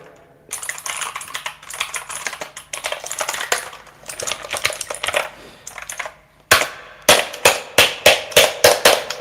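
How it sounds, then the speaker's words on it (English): Keys clatter on a dirty gaming keyboard, first in a busy flurry of typing and then in a slower series of sharp, loud, evenly spaced presses near the microphone. "what you do is you take this keyboard and type with it."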